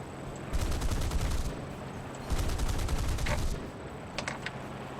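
Two sustained bursts of rapid automatic gunfire from aircraft guns in War Thunder, each lasting over a second, with short faint bursts at the end over steady engine drone.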